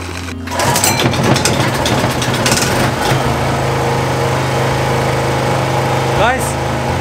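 A small generator engine runs steadily at a constant drone, powering a washing machine at a pallet-wood cabin build site, with occasional clatter and a brief whine near the end.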